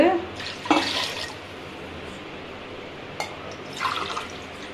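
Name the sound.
pouring glasses of water into pot for black rice porridge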